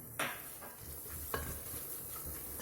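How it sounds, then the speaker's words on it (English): Chaat masala, Kashmiri red chili powder and turmeric powder frying in oil in a pressure cooker: a steady close sizzle with a couple of scraping stir strokes against the pot. "Cook the spices briefly before adding in some tomato paste or tomato puree."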